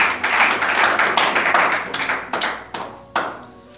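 Applause from a church congregation after a sermon, broadband clapping that swells for about two seconds, then tapers into a few scattered, separate claps near the end.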